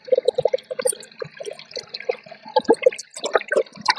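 Tap water runs and splashes in short bursts during kitchen cleaning of meat for a curry, the sound intermittent and fairly close with small drips and clatter between flows.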